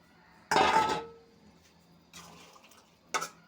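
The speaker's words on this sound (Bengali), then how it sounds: "জলটা দিয়ে দিলাম" About a cup of water splashes into a pan of fried ridge gourd and sponge gourd, a short loud pouring burst followed by fainter pours and a final brief splash, with quiet gaps between.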